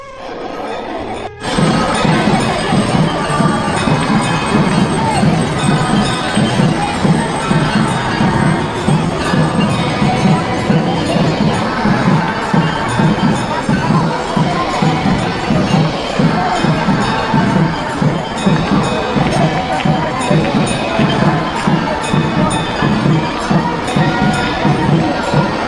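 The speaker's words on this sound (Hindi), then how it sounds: "ये दृश्य था गंगा आरती का जो कि आपने देखा" Ganga aarti ceremony on the riverbank at Haridwar, a dense crowd murmuring and chanting continuously with a steady rhythmic pulse, likely hand bells and clapping, loud and sustained throughout after a brief quiet opening.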